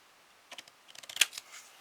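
Scissors cutting paper card for an autumn greeting card, a short run of quiet close snips and crisp rustling strokes, ending in a slightly louder cut.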